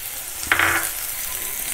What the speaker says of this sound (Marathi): हे सगळं मात्र मोठ्या गॅसवर परतावं लागतं आणि जरा भरभर करायचं